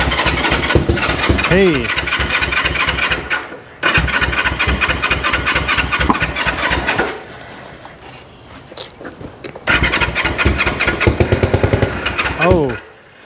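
Fed by a freshly connected battery, the 1974 Honda CL450 motorcycle engine cranks in rapid, repeated bursts after 25 years of sitting, with a couple of pauses and sputtering attempts to catch. A voice briefly speaks over it.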